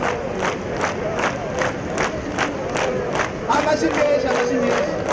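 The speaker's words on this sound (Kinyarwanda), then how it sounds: "amashyi menshi" A crowd at a public gathering in Muramvya claps in unison, with sharp beats about every half second. Crowd voices shout and cheer underneath the claps for around five seconds.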